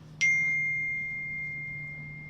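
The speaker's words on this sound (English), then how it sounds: "my phone hasn't stopped pinging today" A single bright notification ping from a phone strikes sharply and rings on as a steady, slowly fading tone for a couple of seconds, alone over a faint low hum.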